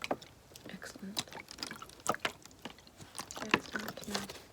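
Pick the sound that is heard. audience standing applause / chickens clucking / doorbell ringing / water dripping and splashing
water dripping and splashing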